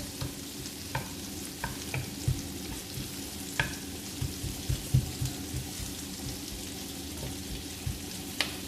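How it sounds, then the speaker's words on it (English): Onion sautés in a pan with a faint, continuous sizzle. Scattered light clicks and taps from stirring recur throughout, with no talking over it. "Just saute the onion until it's tender."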